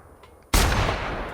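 Gunfire erupts abruptly in The Outer Worlds after a quiet moment, a loud, close burst that carries on in a dense, sustained roar.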